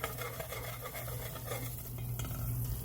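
A butter and flour roux is stirred in a pan over a low, steady sizzle, with a utensil scraping and rubbing against the pan in a continuous, close rhythm.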